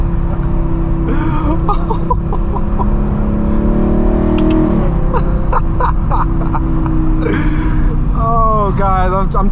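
A straight-piped, Gintani-tuned BMW M3 E92 V8 revs loud and close inside a tunnel, engine tones rising and falling in bursts over a steady roar.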